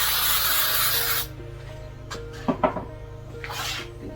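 A water spray bottle mists furniture for about a second, a steady close hiss that stops abruptly, followed by quieter rubbing and handling sounds.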